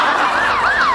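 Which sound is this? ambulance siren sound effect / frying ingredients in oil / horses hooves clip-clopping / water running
ambulance siren sound effect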